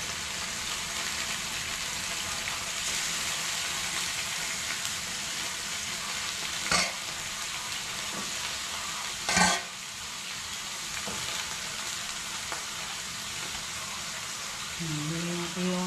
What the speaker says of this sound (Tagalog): Tapos prito muna natin bago natin tubigan.